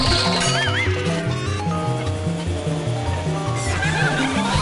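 In the video game Luigi's Mansion, a toy horse gives repeated loud whinnying neighs over bouncy game music, with quick musical notes running under the calls.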